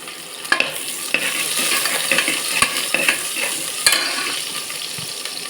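Chopped onion and dried red chillies fry in a pan for a potato and brinjal dish, a steady close sizzle broken by sharp scraping clicks of a stirring spoon, with no talking.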